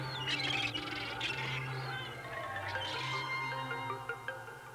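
A gull squawks repeatedly at moderate distance in an outdoor coastal fishing setting, harsh bursts of calls spread through the clip and fading toward the end.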